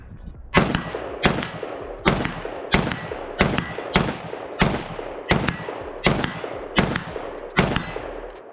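Gunshots fired on a range while testing a Crimson Trace CTS-25 red dot sight: about a dozen loud, sharp reports at an even pace, each with a short ringing tail.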